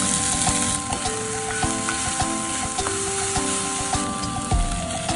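Garlic and onion frying in a hot pan, a loud, dense, continuous sizzle close up with crackles and stirring clatter throughout, and no voices.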